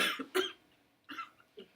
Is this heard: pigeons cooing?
no